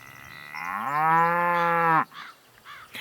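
Light brown cow mooing as a sound effect in a told story, one long, loud, drawn-out moo lasting about a second and a half, followed by fainter rustling and noises.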